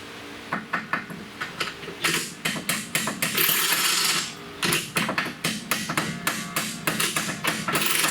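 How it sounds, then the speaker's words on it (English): A heavy hammer strikes a rear shock fastener on a 2016 Toyota Highlander in rapid bursts of sharp metallic blows, loud and close, with a brief pause midway. "See if I can get that bigger hammer on it."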